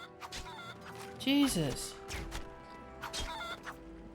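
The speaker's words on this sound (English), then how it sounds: "These chickens are immortal." Video-game chickens clucking in Lego The Lord of the Rings, short bursts of squawks near and fairly loud, one bright call standing out mid-clip, with someone talking and exclaiming over them.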